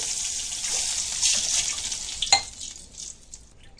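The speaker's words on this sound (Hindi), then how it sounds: "ये देखिए हमने 3 गिलास पानी डाल रहे" Water pours steadily from a glass into a pot of roasted rice with a broad hissy splash, ending in a brief clink and fading trickle; no talking.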